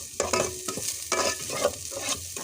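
Jackfruit sautéed with garlic, onion, ginger and chili sizzles in a pan, broken by several rhythmic stirring scrapes over two and a half seconds. Close and fairly loud, with no voices.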